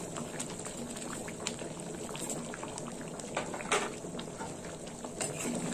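Moong dal cooked with taro bubbling in a pot, a continuous soft simmering burble with small pops and occasional louder bubbles, close and fairly quiet, with no voices.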